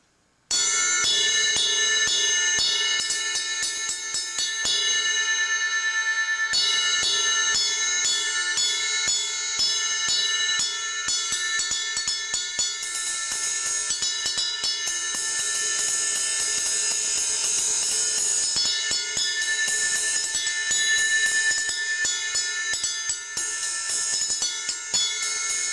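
A metal cymbal bell struck repeatedly, ringing bright and sustained with layered, shimmering overtones that keep building, loud and close, with no voices.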